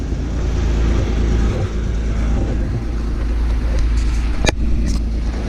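Toyota 4Runner 3.0L V6 engine idling after an oil change, a steady low rumble close by with a brief sharp click near the end.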